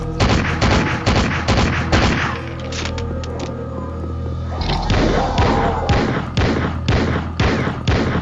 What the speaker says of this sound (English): that's a gun noise, I don't disagree